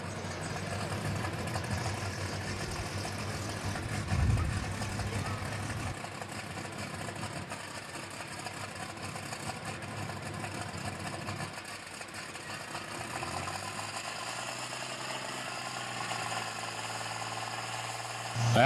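The alcohol-fired Green Lightning pulling tractor, built on an old Deere 2 chassis, idles at a county fair tractor pull with a steady, rattly mid-pitched rumble, while voices and crowd noise carry on around it.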